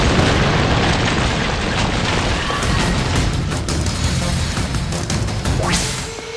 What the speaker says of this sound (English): Hit that pillar with your magic!